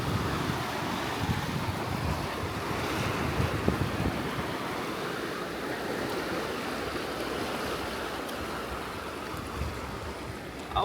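Sea waves washing onto the shore, a steady broadband surf roar that stays loud and continuous throughout, with some wind buffeting the microphone and no speech.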